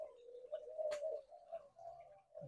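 Hybrid between a red-whiskered bulbul and a sooty-headed bulbul kept for breeding, giving a short, fairly faint warbling song phrase that sits alone over quiet background with a brief click partway through.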